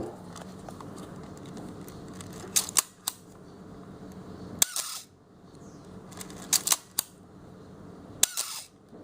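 Close mechanical clicks and ratcheting of a Canon AE-1 Program film camera being wound, followed by sharp shutter snaps, repeated a few times with quiet pauses between.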